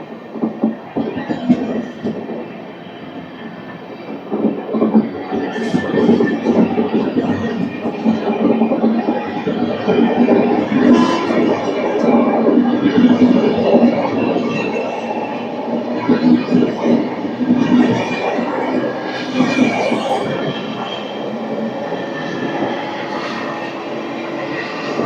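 The Venkatadri Superfast Express between Kacheguda and Chittoor rumbles steadily along the rails at a slow pace, heard from inside the carriage, with faint voices now and then.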